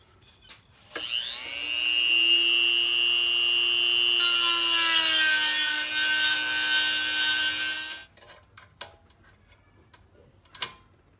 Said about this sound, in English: We're gonna cut that with a Dremel.